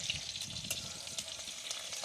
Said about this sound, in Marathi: तेल चांगलं गरम झालं या लसूण टाकून घेऊ